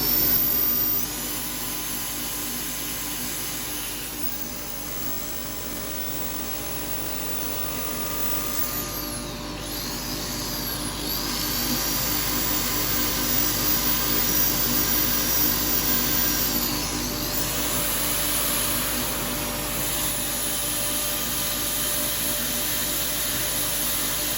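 A live-edge laburnum wood bowl spins on a lathe while being sanded, giving a steady, even whirring and rushing hiss that runs continuously with slight swells, with no voices.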